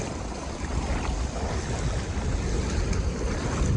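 Steady rush of sea waves washing in at Polillo Island, mixed with wind buffeting the microphone, continuous and fairly loud with no talking.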